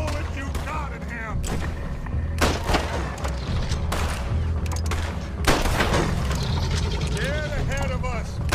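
Gunfire in the Western video game Red Dead Redemption 2 during a pursuit, sharp irregular shots cracking over background game noise, with voices talking throughout.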